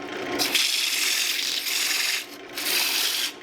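An 80-grit strip cut from a sanding belt rubs against a wooden bed leg turning on a lathe, making a steady close abrasive hiss that swells and dips in a few passes.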